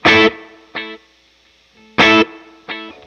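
Two loud, distorted electric guitar stabs through a slapback delay, each followed by a single quieter repeat of itself a moment later.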